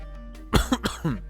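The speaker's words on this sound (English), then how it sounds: "I keep coughing" A short burst of several rough, close coughs in quick succession, loud against a quiet electrical hum.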